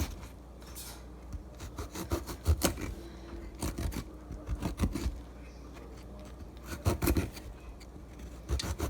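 Baby artichokes being trimmed with a knife, giving quiet, close rasping cuts and scrapes in irregular bursts as tough outer leaves come away, with no talking.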